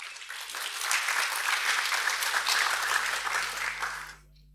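A conference audience applauds as a speaker takes the stage, a steady round of clapping swelling and holding for about four seconds before stopping abruptly, with a low electrical hum underneath.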